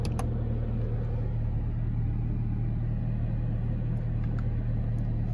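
A 2019 Chevrolet Camaro ZL1's supercharged V8 idles in a steady low rumble, heard from inside the cabin, with no talking.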